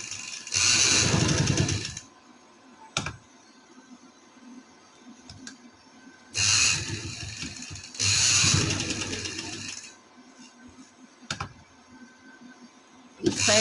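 A sewing machine stitches lace onto fabric in bursts, loud and close, with runs of rapid whirring separated by pauses, short clicks and quiet stretches.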